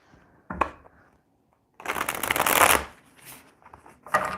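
Tarot cards being riffle-shuffled in a few short bursts, crisp and close, with quiet pauses between the flurries.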